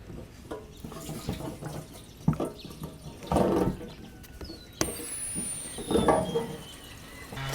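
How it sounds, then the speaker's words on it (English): Fresh fuel poured into the tank of a classic Kawasaki generator, a close, uneven liquid splashing and trickling in several bursts, with no talking. "I can put fresh fuel in it now"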